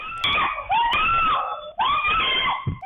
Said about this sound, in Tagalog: Maririnig ang hiyaw ng isang babae.